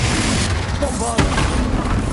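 A Bombarda spell blast in the Hogwarts Legacy video game: one sharp, loud booming impact lands over dense, constant in-game rumble and effects.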